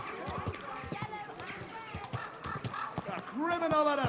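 Horse in Kingdom Come: Deliverance 2, with steady clip-clop hoofbeats and a short whinny near the end, heard close and under ongoing speech.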